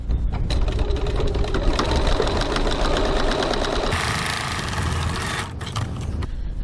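Sewing machine running a long top stitch along the edges of a crossbody bag, a fast steady mechanical whir close by that shifts pitch partway through, with no talking.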